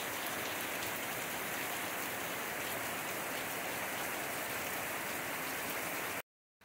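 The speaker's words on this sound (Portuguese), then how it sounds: "A ideia é mostrar pra vocês a chuva." Heavy rain falls on plants on a countryside farm, a dense, steady hiss that continues without a break before cutting off abruptly near the end.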